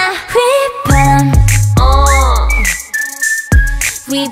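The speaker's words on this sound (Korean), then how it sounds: "휘파람" Whistling in a song, a bright melodic whistle over a loud pop backing track with deep bass, phrases sliding and held between sung vocals.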